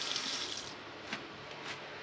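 Water runs steadily from a tap fed by a boat's water pump, the aerated stream giving a soft, even hiss that stays constant and fairly quiet throughout.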